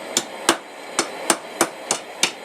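Seven sharp metallic hammer strikes ring out on an anvil while a leaf key chain is forged into a curve, evenly spaced about a third of a second apart, close and crisp with no talking.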